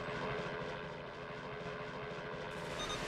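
Helicopter in the Time Crisis: Crisis Zone arcade shooter game, a continuous faint rotor drone with a rhythmic chopping pulse, steady throughout.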